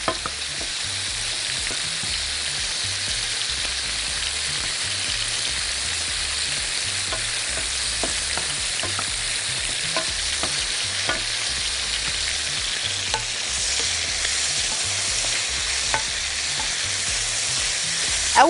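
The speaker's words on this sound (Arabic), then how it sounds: "لازم الفراخ تاخد لون وتتشوح تشويحة حلوة" Chicken pieces sauté in a hot pan for a home-style chicken and vegetable dish, giving a steady, dense sizzle and crackle of frying with occasional sharper pops and stirring, close and continuous throughout.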